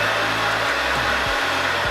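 A mixer grinder whirs loudly with tamarind chutney in the jar, a dense continuous motor roar whose pitch dips as the blades load, with no voices.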